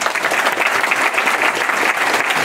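Dense, steady applause from a church congregation honoring Pope Francis during a Catholic charismatic renewal gathering, loud and continuous throughout with no voices.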